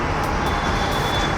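A yellow-and-white Jagdamba intercity bus from Malvan passes by on a road at Kandivali East, Mumbai, a steady loud engine and tyre roar blended with surrounding traffic noise.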